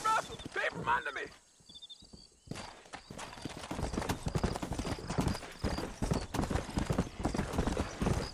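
Horse hooves clip-clop steadily at close range in the Red Dead Redemption video game, a dense rhythmic trot after a brief quiet gap, mixed with game sounds and occasional voices.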